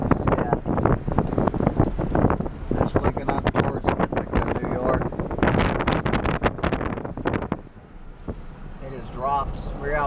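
Strong gusts of wind on top of a ridge buffet the microphone in loud, choppy bursts, with a voice speaking faintly underneath.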